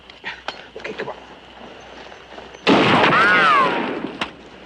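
A sudden loud blast, a sniper shot in a 1958 war film, cuts in over earlier soft movement and voices and is followed by a sustained roar with whistling tones before it ends in a sharp crack.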